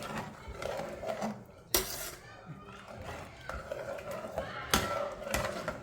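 Pulao mixture being stirred in a metal pot, spoon scraping and clinking against the sides with a couple of sharper knocks, at moderate level.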